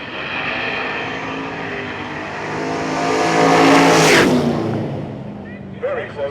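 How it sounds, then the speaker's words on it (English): A turbocharged 1970 Camaro races down a dragstrip, its loud engine roar building and sweeping past, peaking near the middle and then fading away, with crowd or announcer voices underneath. "he's going to get that turbocharger spinning until you can't hear yourself think anymore"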